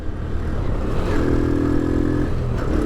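A motorcycle rides along the Murree expressway toward Kohala, its engine droning steadily up close with a brief rise in pitch mid-ride and continuous road and wind noise around it.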